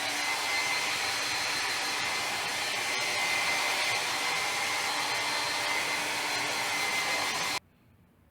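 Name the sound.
hair dryer blowing on a dog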